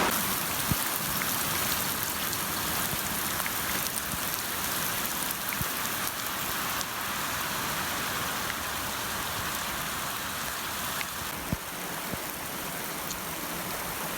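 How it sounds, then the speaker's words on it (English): Heavy rain pours down in a dense, continuous hiss and patter, loud and close, lasting throughout without any talking. "We have been asking for rain and we certainly got a good dose there."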